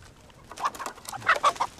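Chickens clucking in short, bright bursts at close range, with several clucks clustered together near the end and no talking over them.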